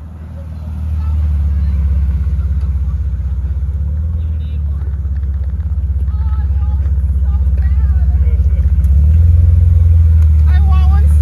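A car being driven with its engine rumbling low and steady throughout, growing slightly louder toward the end, with people talking over it.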